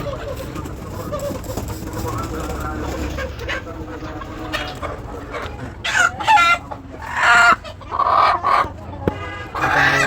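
Chickens cluck and call in a poultry shed where the birds have fallen ill, with loud bursts of calls in the second half over a steady low background hum.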